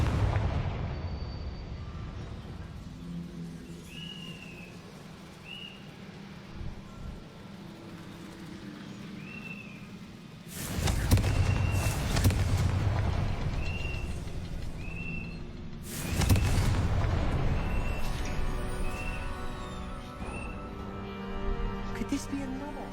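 Confringo blasting spells explode in Hogwarts Legacy, with two loud, sharp bursts well apart, each followed by rumbling decay, over quiet ambient game sound and occasional chiming tones.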